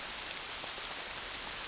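Heavy rain falling in Whitehouse Woods at Lamlash on the Isle of Arran, a dense, steady hiss of drops with a few sharper individual splats, constant and fairly close, with no voices.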